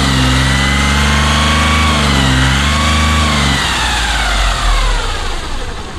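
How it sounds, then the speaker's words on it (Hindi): A Volkswagen Polo engine, serviced for black smoke, low pickup, timing kit and water pump work, idles steadily with a low hum and faint whine, then revs briefly and settles, nearby with no talking. "और कार के इंजन की जो आवाज़ है वो भी हम आपको चेक करा देते हैं"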